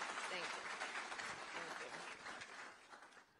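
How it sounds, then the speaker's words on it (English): A crowd at a Boston union workers event applauds the Vice President, a broad wash of clapping and cheering voices that starts strong and gradually thins toward the end. "One more round of applause for our great Vice President, please."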